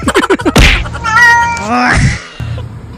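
A cat meows loudly and drawn out, rising then falling in pitch, after a few short sharp sounds, with no talking.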